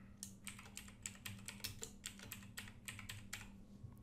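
Rapid typing on a computer keyboard, a quick uneven run of light key clicks, close and quiet with no voices.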